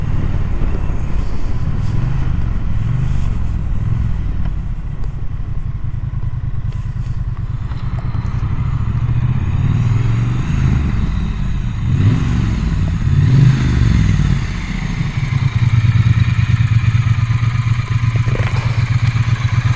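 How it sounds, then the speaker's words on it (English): A Triumph Bonneville T120 motorcycle with a 1200 engine being ridden, its steady low engine drone running loud and continuous throughout, with rising and falling revs and wind rumble, no voices. "It's a lovely 1200 engine."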